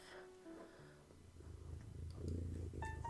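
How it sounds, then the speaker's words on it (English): A baby kitten purrs softly and close, a low rhythmic rumble that grows steadily louder over a few seconds, with faint background sounds and no talk. "Oh, the purring."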